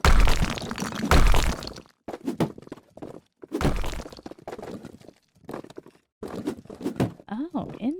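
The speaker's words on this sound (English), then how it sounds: "we're gonna destroy the wall right now" A wall is knocked down in the renovation game House Flipper, with a series of heavy thunks and cracking breaks arriving in irregular bursts separated by short gaps, and a voice talks between and after the impacts.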